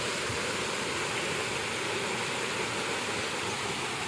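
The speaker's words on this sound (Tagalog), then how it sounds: "Ito pala yung waterfalls nila." Igpupula Falls, a waterfall close beside a road, pours in a steady, loud, broadband rush that fills the whole scene without pause, with no voices over it.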